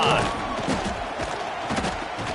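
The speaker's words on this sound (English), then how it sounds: "this crowd is feeling themselves after that last drive" Video game football stadium crowd cheering after a drive, a broad, steady roar of a large crowd with swelling peaks and play-by-play commentary over it.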